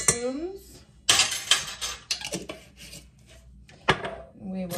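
A spoon scrapes and knocks around a pot while stirring buffalo chicken dip mixed with onion-laced pickled pepper relish, in a few uneven close strokes with clattery metal contacts.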